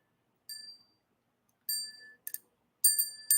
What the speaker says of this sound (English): Michelle, I love your bell.